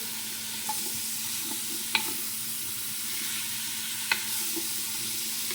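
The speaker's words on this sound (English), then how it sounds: "here I am cooking in 4 tablespoons of olive oil. My onions, carrots, and celery." Onions, carrots and celery fry in four tablespoons of olive oil with salt and pepper, giving a steady soft sizzle with a few sharp stirring knocks and scrapes and no voices.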